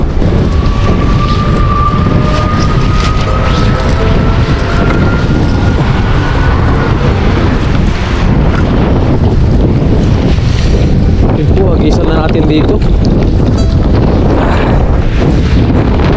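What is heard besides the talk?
strong wind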